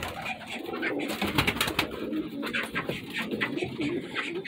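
Soft, throaty pigeon coos repeat nearby, overlapping in a low murmuring chorus with some faint rustling in the background.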